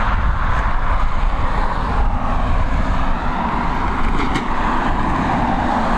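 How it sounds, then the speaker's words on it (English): An Aer Lingus Airbus A320 arriving at Dublin Airport from Brussels gives a loud, steady, broadband engine roar that holds for the whole stretch without voices. "She's an Airbus A320 operated by Aer Lingus. Coming in from Brussels."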